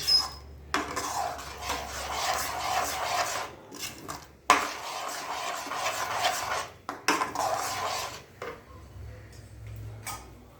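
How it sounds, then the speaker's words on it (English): Jaggery milk is stirred in a pot with a utensil, giving close, repeated scraping and clinking strokes in bursts with short pauses between them, and no talk. "So after stirring the jaggery milk"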